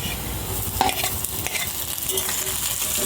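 Chopped garlic, onion and ginger fry in hot oil for an aloe vera curry, giving a loud, continuous sizzle up close, broken by occasional scraping from stirring.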